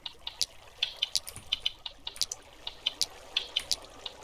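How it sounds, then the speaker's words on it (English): Water trickling and dripping in a cave in a mining video game, with a steady run of bright, irregular plinks and drips over a soft low wash, moderately close and alone. "I hear water, but I'm at Y40"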